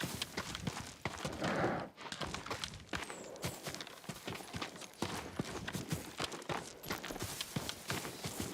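Hooves of a farm horse clip-clop in a steady walking rhythm in the video game Ghost of Tsushima, close and fairly loud, with a brief softer patch near the start.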